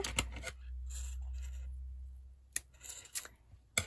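Scissors snip yarn off a finished crocheted sponge: a few sharp, close clicks and snips over a low steady hum, faint overall and with no talk.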